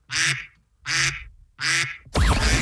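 A duck-quack alarm sound effect gives three loud, evenly spaced nasal quacks, then a harsher, noisier fourth burst at the end.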